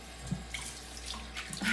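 Tap water runs steadily into a sink, a continuous splashing rush with small clinks and drips, close by and alone.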